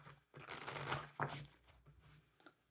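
Tarot cards riffle and slap together in a quick shuffle, a soft papery burst followed by a tap, faint and close.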